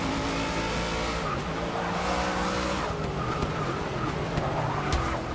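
A race car is driven in Forza Motorsport 6, a loud steady engine drone with shifting revs and tire squeal through corners, continuous for the whole stretch.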